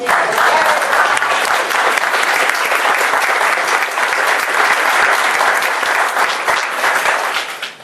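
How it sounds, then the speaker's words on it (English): Loud, dense audience clapping for a dean's wife at an informal coffee gathering, a sustained burst of many hands that fills the room and tapers off at the end. "so you probably should give her an applause"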